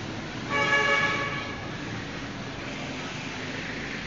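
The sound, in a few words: LRT train at Anonas station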